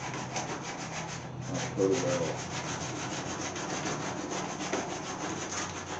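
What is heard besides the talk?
hand sanding metal Chrysler hood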